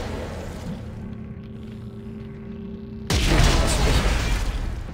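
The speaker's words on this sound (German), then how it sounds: "Ich hatte einen Explosionsfass vor mir." Explosive barrel blowing up in the video game Dead Space 3: quiet ambience, then a sudden loud burst that fills the sound and rumbles on.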